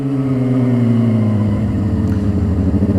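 A car's excessively loud muffler drones close by, its deep engine note rising as it revs, rough and throaty throughout with no voices.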